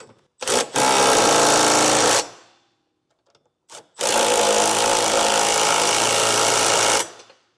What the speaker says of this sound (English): We'll take a 19mm socket and get our hardware tightened down.